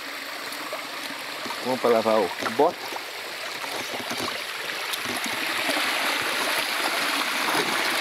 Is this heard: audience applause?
no